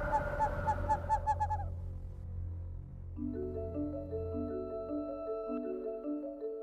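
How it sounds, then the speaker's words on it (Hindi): An owl calls in a short run of quick, rhythmic hoots, then falls silent as sustained musical tones take over. "ये हैं उल्लू।"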